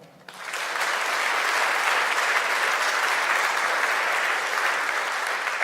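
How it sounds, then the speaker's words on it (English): Applause rises quickly from a quiet start as the NG-DE Berlin 2025 conference audience thanks a sponsor. Full, sustained clapping from a large room keeps an even level to the end. "Round of applause for Kupaya."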